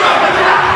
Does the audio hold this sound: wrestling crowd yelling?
yes